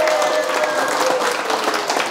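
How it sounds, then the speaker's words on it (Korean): Applause from a lecture audience, a dense, steady wash of clapping that stays loud and even for a couple of seconds with no voice over it. "오늘도 사람으로 태어나서 멋지게 살리는 일 하시는 여러분께 축하 박수 드립니다"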